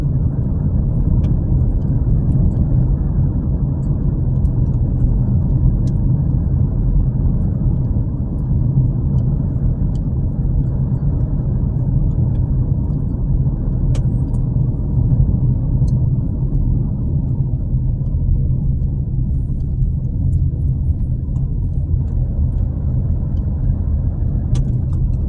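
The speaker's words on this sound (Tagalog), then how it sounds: "Light traffic na dito, light traffic." Steady road traffic at a light flow, a continuous low rumble of passing cars and engines heard from inside or beside a vehicle on a Philippine road, loud and even throughout with no talking.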